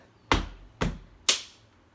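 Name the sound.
stamping feet and clapping in a name game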